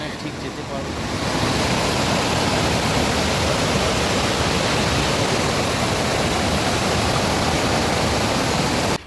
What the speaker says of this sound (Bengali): আর এই যে জল কুলুকুলু শব্দে বয়ে চলেছে